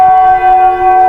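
A church bell rings steadily with a sustained, resonant tone, heard early in the morning before a 5 a.m. Mass in Barangay Lonoy, ringing alone without voices.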